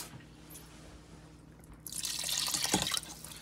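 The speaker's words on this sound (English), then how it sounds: "I'm going to add some water to it" Water is poured into a pot of hot dog gumbo in a kitchen, a splashing, gurgling stream that begins after a quiet moment and runs loud and steady for about a second and a half.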